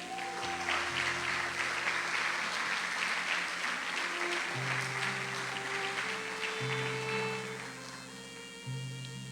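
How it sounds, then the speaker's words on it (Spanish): A church congregation bursts into loud, sustained applause during a Spanish-language sermon, dense clapping filling the room while sustained organ or keyboard chords hold underneath before the clapping thins toward the end. "Denle un fuerte aplauso al Señor."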